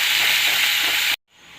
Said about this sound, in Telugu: వేసుకొని ఆనియన్స్ కొద్దిగా ఫ్రై అవ్వాలన్నమాట.